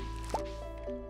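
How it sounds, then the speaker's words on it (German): Watering crops in the Stardew Valley video game, a soft watery plop followed by faint dripping tones, quiet and brief. "So, und gießen müssen wir natürlich auch."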